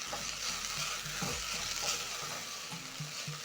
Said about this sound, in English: Toss the rice in the pot for around a minute until